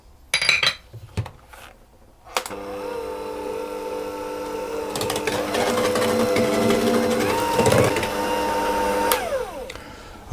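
An electric mixer whirs steadily as egg and vanilla extract are beaten into creamed butter for cookie dough, starting after some clattering, a loud continuous motor hum with shifting pitch and bowl scraping.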